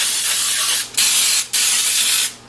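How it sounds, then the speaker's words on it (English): Baker's Joy baking spray hisses loudly from a can onto a muffin tin in three close bursts, the last one longest, with no voices. "I'm going to use the Baker's Joy and spray my muffin tin really well"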